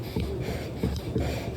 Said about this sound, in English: I often do a threshold workout on the elliptical, which sounds like this